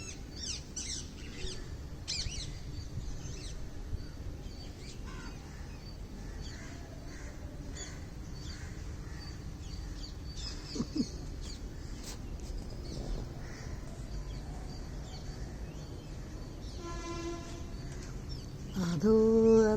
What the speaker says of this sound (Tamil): காலையில் இந்த பறவைகளை, காகங்களை, புறாக்களை வீடியோ எடுக்க நான் மாடியில் வந்து விட்டேன்